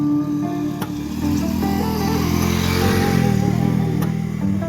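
A motorcycle engine runs loud and close, a steady droning rumble that rises slightly in pitch as the rider accelerates, with no voices over it.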